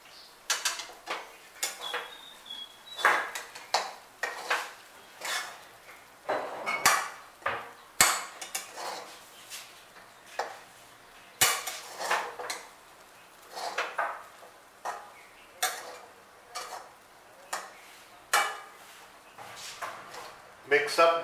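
Poha and chopped onions are stirred together in a pan with a spoon, giving repeated scraping and clinking taps at an irregular rhythm, fairly close and moderately loud throughout.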